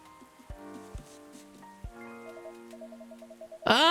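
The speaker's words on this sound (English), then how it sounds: "A place to be safe while the rain falls outside." Rain falls steadily outside in the video game Coffee Talk 2, a soft wash under gentle melodic music with a few low thumps and a brighter burst at the end.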